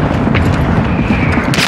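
Loud, continuous rumbling blast from an RPG rocket explosion in a video game, a dense booming roar filling the whole moment with a brighter crack near the end.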